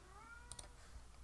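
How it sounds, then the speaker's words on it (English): A quiet, brief cat meow sits behind a low room hum, with a couple of soft clicks right after it. "you can hear my cat in the background."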